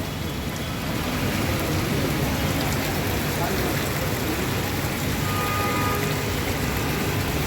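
Steady first rain of summer falls outdoors among trees, a dense continuous hiss of drops that stays even and fairly loud for the whole stretch with no clear voices over it.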